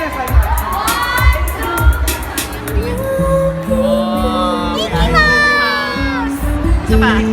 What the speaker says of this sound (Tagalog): This is the crowd.